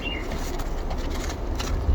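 Young pigeons in New Zealand coo softly at close range against a steady background hiss, a brief low murmuring call.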